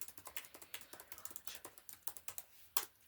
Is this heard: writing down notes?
yes